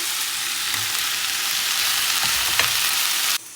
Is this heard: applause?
no